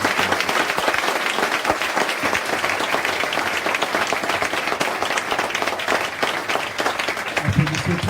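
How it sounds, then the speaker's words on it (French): A church congregation claps loudly and continuously during a testimony service, a dense crackle of many hands with a steady rhythm and faint voices underneath. "Applaudissons très très fort."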